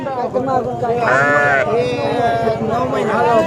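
A nine-month-old ram bleats loudly up close at a goat and sheep market, a wavering cry followed by shorter bleats.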